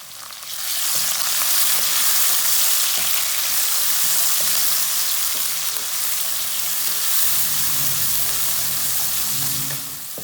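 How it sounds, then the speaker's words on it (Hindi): Continuous loud sizzling and crackling of tomato frying in a hot pan, with occasional scraping of stirring underneath. "टमाटर डाल के 2 मिनट तक मैंने भून लिया"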